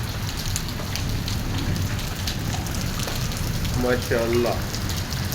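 Monsoon rain falls steadily on an early morning in Lahore, a dense patter of drops on surfaces close by, while someone speaks briefly over it.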